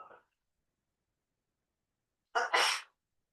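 A single loud sneeze, a quick sharp inhale then an explosive burst, close up, after a brief breathy sound and silence.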